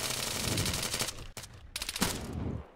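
Sustained automatic gunfire in a shooter game, dense rapid volleys with a brief break in the middle before the shooting resumes, loud and continuous.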